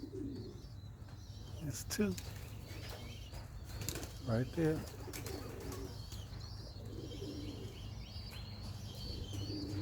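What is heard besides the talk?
racing pigeons cooing and flapping wings near the loft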